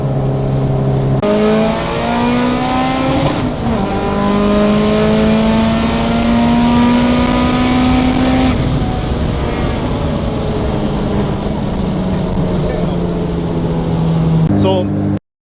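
A 1000hp Mitsubishi Evo race car pulls hard through the gears, its engine note climbing loudly across several long upshifts before cutting off abruptly at the end.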